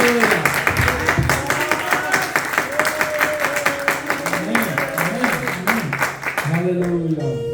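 A Pakistani Punjabi and Urdu church congregation claps in a strong regular rhythm, loud evenly spaced hand claps driving along beneath a voice that sings or chants over them, before the beat drops away near the end.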